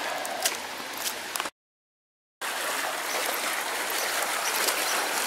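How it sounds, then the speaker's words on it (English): Rainwater flows and drains through a swamp in a steady, continuous wash, close by and moderately loud, broken by a brief stretch of silence before resuming. "let's go see where this water's going,"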